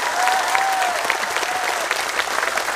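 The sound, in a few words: audience applause, louder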